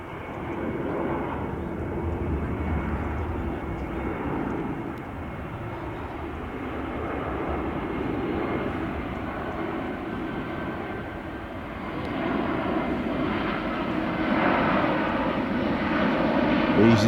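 An airliner, an easyJet jet coming in to land near Hampton in Arden, rumbles as a steady, broad engine roar that swells slowly as it approaches, with people talking quietly nearby.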